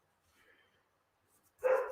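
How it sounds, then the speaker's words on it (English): A dog barks once, loud and sharp, near the end of an otherwise quiet stretch after a faint murmur. "Doggo's barking at someone."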